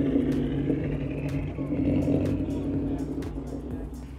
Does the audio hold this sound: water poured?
no